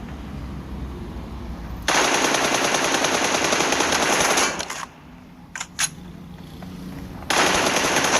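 Rapid automatic gunfire from PUBG Mobile in an arena team deathmatch, loud sustained bursts of machine-gun fire, a brief pause with a couple of isolated shots, then another burst.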